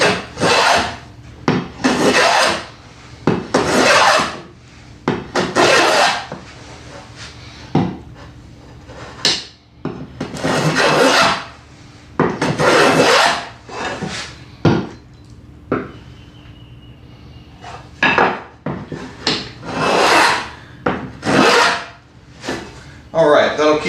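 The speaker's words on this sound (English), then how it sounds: "let's go ahead and put a nice hefty chamfer on the outside edge" Repeated wooden rasping strokes from chamfering the outside edge of a wooden spice rack, each stroke a loud, close, broadband scrape in a steady back-and-forth rhythm, about a dozen passes with short pauses between them.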